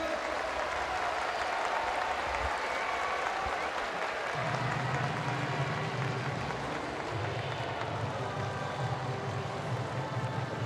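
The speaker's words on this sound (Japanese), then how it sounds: "皆さんもう一度大きな拍手をお願いします。" Stadium crowd applause after a baseball hero interview at Jingu Stadium during a Yakult Swallows versus Hiroshima game, a steady roar of clapping and cheering that fills the whole stretch, with a low rumble joining partway through.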